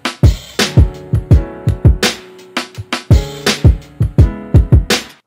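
Hip hop beat built in FL Studio, with a punchy drum loop of regular kicks and snares layered over sustained keys, loud and steady with no talk.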